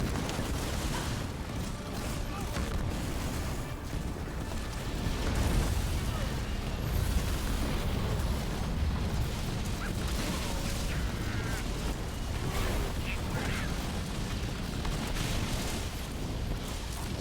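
Halo video game battle with tanks attacking a base, a dense barrage of explosions and gunfire rumbling continuously, loud and layered, with voices talking over the combat.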